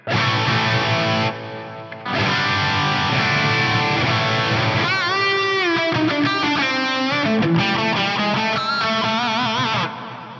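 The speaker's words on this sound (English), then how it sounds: "the plex delay is going to bring you some echoes and some reverbs in there" Electric guitar played through an Axe-Fx III amp and cab model with plex delay, loud and distorted, sustained chords giving way to melodic lines trailed by echoes and reverb.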